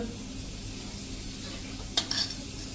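Whole cumin seeds hit hot oil in a pan while cooking a Gujarati-style desi chana curry, giving a faint sizzle under kitchen noise, then a sharp clink and a short burst of crackling near the end.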